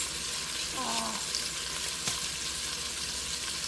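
Beef chunks browning in a hot pan for stew, a steady close sizzle and crackle of frying meat with a brief scrape of stirring partway through.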